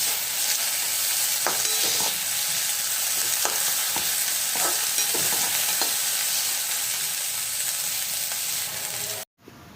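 Onion sautéing in a pan: a steady, close sizzle of frying with occasional clicks of stirring, running continuously alone before cutting off abruptly near the end.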